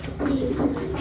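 Doves coo nearby in a single soft, low, rounded call that lasts about a second.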